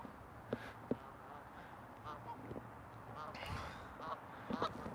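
Geese, a male among them, honk outdoors in a few scattered, fairly faint calls over quiet background noise.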